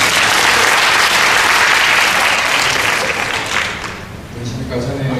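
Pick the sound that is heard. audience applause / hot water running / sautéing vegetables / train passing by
audience applause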